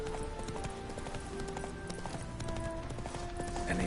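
Hooves of Roach, the horse in The Witcher 3 Heart of Stone, clip-clop at a steady trotting rhythm, close and continuous, over a layer of game ambience and music.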